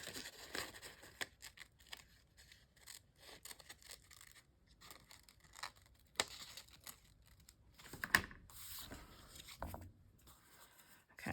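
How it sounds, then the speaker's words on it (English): Paper is trimmed for a Bible journal page, with quiet, scattered snips, crinkles and handling sounds, faint and close, broken by short pauses. "I'm just gonna trim this part"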